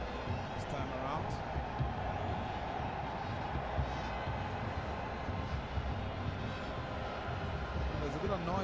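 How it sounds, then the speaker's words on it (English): A Zambia Army helicopter flies over a stadium during a Zambia vs Eswatini CHAN qualifier football match, its steady engine drone mixing with constant crowd noise throughout. "there's a bit of noise coming out because of the helicopter, Zambia Army helicopter that's up there"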